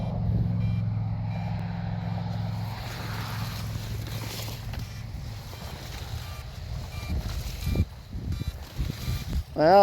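A DJI Mavic Mini drone's locator beeper chirps faintly and repeatedly out in a farm field, half buried under steady wind rumble and outdoor noise.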